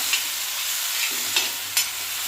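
A spoon stirs okra curry with roasted peanut powder and curd in a pan on a low flame, a few distinct scraping strokes over a continuous soft sizzle, close and without talk.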